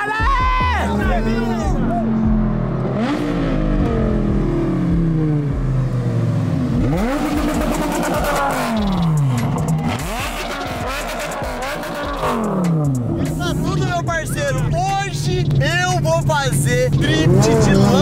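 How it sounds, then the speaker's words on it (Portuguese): A Lamborghini drifts at the Londrina race track, its engine revving and swooping up and down in loud sweeping pitch bends alongside tire noise, with excited voices talking and shouting over it. "Drift de Lamborghini, meu irmão."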